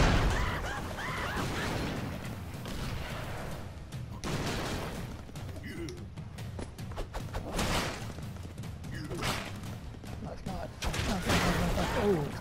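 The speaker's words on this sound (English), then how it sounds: "Explosion." Repeated explosions and gunfire from the side-scrolling action game Broforce, a dense run of loud bursts, thumps and crashes with brief lulls, sounding throughout the whole stretch alongside game music and effects.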